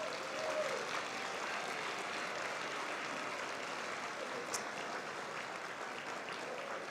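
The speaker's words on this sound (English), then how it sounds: "Please stand, be recognized, and give them a big round of applause." An audience applauding volunteers and staff at an event, with dense, steady clapping that fills the room and holds evenly throughout.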